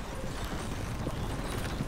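Horse hooves clip-clop in Red Dead Redemption 2, a steady run of close hoof beats over a constant rumbling background, with no talking.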